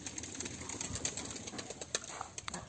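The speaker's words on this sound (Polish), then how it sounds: "Gołębie się ruszyły." Soft rustling and a few wing flaps from pigeons moving about nearby, with quiet fluttering bursts over a low background.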